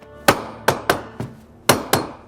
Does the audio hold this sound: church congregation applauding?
no